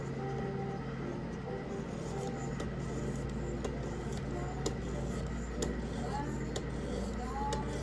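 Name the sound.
Buck 119 knife being drawn across a sharpener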